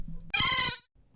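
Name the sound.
Mareep Pokemon cry from video game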